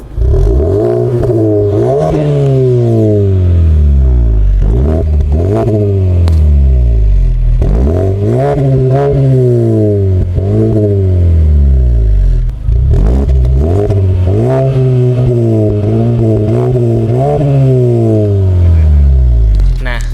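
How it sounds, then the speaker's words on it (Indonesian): A Mazda 3's exhaust revs repeatedly, each throttle blip rising and falling in a steady cycle, loud and close with a deep, rounded tone. "kita coba dengerin suara dari exhaust si Mazda 3 ini"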